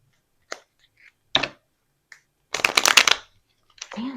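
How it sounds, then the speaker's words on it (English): A tarot card deck being shuffled in several separate bursts, crisp riffling flutters spaced apart, the longest in the middle, close and fairly quiet with no talk. "I need a clean shuffle"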